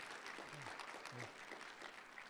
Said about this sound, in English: So let's give an applause to Dr. Humphrey.